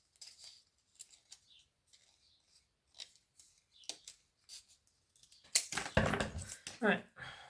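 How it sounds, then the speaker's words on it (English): Scissors snipping paper for a rustic Cricut Christmas sign, a run of short, quiet cuts at an even pace, followed by louder rustling and handling of the paper close by. "scissors is just as quick."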